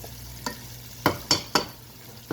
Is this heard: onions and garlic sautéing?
yes